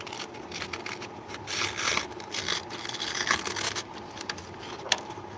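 Sandpaper rubbing and scraping against an opal stone, a steady gritty abrasive rasp with irregular strokes and surges, fairly close and continuous, with no talking.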